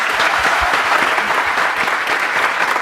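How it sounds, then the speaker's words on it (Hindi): An audience gives a big round of applause to two participants at a motivational talk, a dense, even burst of many hands clapping at once, close and loud with no voices over it. "इनके तालियां big round of applause for both of them"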